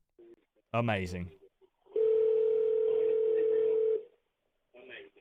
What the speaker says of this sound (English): Hold up, I'm calling him back up.